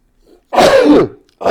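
A single loud, close sneeze bursts out forcefully and tails off, followed after a brief pause by another short breathy burst, with no talking over it.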